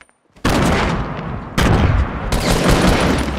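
Gunfire in Fortnite from a suppressed assault rifle: sudden loud bursts of rapid shots starting after near-silence, with a fresh burst about a second later and a third soon after, continuing densely to the end.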